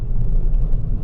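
A sports car's low, heavy rumble fills the moment as it brakes hard on a race track with 15.5-inch brakes, a steady deep roar with faint hiss on top, loud and close.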